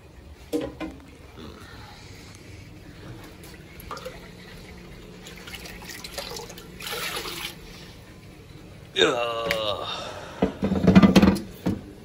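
A bucket of water is poured into a 90-gallon aquarium, with a loud splashing gush arriving near the end after quieter handling noises and faint background hum.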